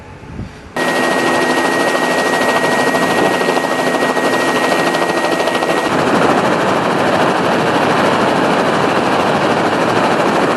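A helicopter inspecting 20,000-volt power lines near Poitiers thumps in a rapid, loud, continuous rotor chop that kicks in after a brief quiet moment and stays close throughout.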